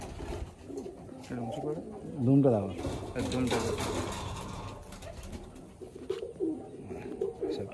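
Pigeons in a loft near Baruipur, Kalyanpur, coo softly and repeatedly under continuous nearby conversation, with a brief louder voice partway through.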